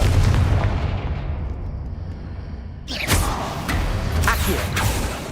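A Confringo fire spell in Hogwarts Legacy, a rumbling blast that swells, then a second burst of crackling, creaking debris and booms, loud and close throughout.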